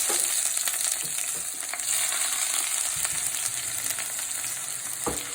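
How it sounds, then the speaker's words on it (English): Garlic and onion sizzle steadily in a hot pan as the base for a Chinese-style shrimp sauté with soy sauce and scallions, a continuous bright hiss with a few stirring clicks and no talking. "I'm cooking a Chinese style food, which is a shrimp. So this is garlic and this is onion."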